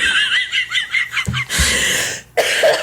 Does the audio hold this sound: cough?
yes